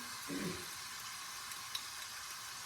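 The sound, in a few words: spices frying with yogurt in a pan for prawn pulao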